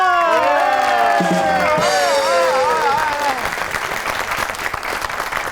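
Studio audience applause welcoming guest Reham Khan onto a comedy talk show, swelling in after a brief musical sting and continuing as steady, dense clapping with scattered cheers and whoops.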